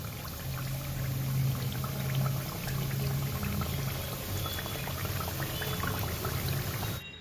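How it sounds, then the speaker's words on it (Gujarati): Ratalu puri bhajiya, battered yam fritters, half-frying in hot oil, give a steady close crackle and bubbling that runs unbroken with no talk before cutting off near the end. "ભજીયા હાફ ફ્રાય થઈ ગયા છે."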